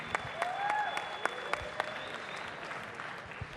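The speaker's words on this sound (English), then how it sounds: "can I have a quick round of applause for both of our boxers" Crowd applause for two boxers at a fight night on the Gold Coast, a moderate wash of clapping with scattered sharper claps, under a faint steady tone.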